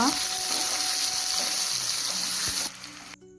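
Onion fries in hot oil tempered with cumin and asafoetida, giving a steady close sizzle with light stirring that drops away near the end, leaving a quieter, near-silent tail.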